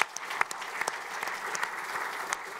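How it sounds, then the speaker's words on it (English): Applause from a conference audience at an aviation safety event's closing session, a moderately distant, steady patter of many hands with a few sharper individual claps standing out. "Can we give as well a round of applause for EASA?"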